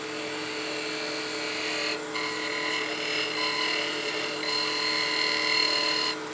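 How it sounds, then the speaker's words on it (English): A skew chisel cuts a wooden spinning top on a lathe, giving a steady, even whine with a constant hum underneath and brief dips where the tool lifts off the wood. "I'm going to go back to my skew though, just so I can get a little better surface"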